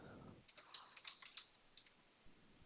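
Someone types PL/SQL code on a computer keyboard in a short run of light clicks and key taps, quiet and close, with faint talk at the start and end.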